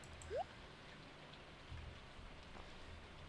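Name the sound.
rain in video game Stardew Valley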